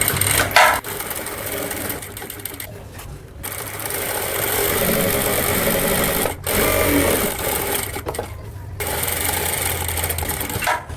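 A sewing machine runs nearly nonstop, stitching a collar on an A-line cotton kurti along the pasted edge, with a steady close whir broken by a few short pauses.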